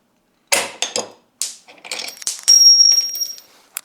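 A handmade puzzle box compartment is pushed open by a bolt, with scattered sharp clicks and knocks followed by a brief metallic ringing scrape. The sounds are close and separated by silence.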